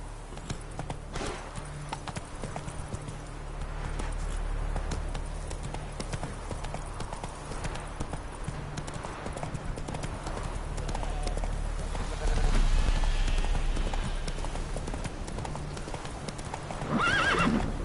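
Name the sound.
Geralt's horse Roach galloping, from video game The Witcher 3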